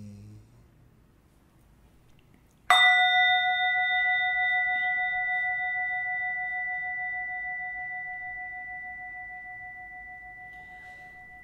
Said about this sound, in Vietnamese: Chuông đại hồng mới vọng, tiếng kệ xương đã vang